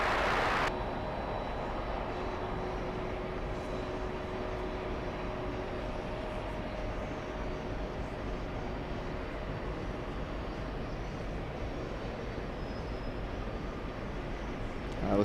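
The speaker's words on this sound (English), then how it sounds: "We have the American Airlines 737 on the move." Engines of an American Airlines Boeing 737 roar steadily and loudly without a break, a broad continuous rumble with a faint tonal whine on top, heard from nearby with no clear voices.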